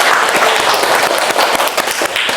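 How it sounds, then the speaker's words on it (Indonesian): A classroom of students claps for two groups that have just presented, a dense burst of applause that stays loud and steady from start to end, with faint voices mixed in. "Bisa tepuk tangan untuk kedua kelompok yang telah maju ke depan."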